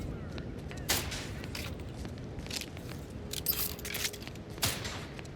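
Gunfire rings out on a live fire range in The Outer Worlds 2, several sharp distant shots spaced irregularly over a low rumbling game ambience, with faint background voices.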